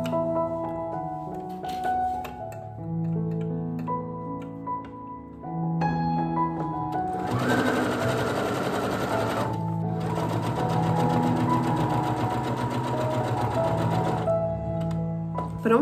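A sewing machine stitches a ruffled placemat in farmhouse style, running steadily and close with shifting motor pitch, then speeding up into a louder, faster whir for several seconds.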